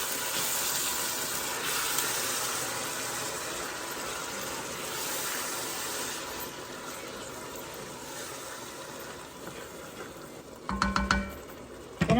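Canned tomatoes poured in with their juice and mixed into a hot pan for stuffed peppers, a broad hissing simmer that slowly softens, followed near the end by a few clattering spoon scrapes.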